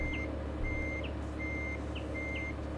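A truck in Euro Truck Simulator 2 sounds reversing beeps, four evenly spaced beeps over a low, steady engine hum.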